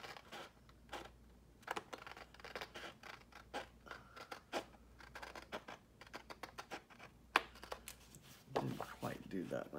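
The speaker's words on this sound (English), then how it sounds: "this one I may just do with scissors." Paper being cut with scissors during a mixed media craft session, a series of crisp snipping strokes at close range, irregular and fairly quiet, with soft rustling and some talk in between.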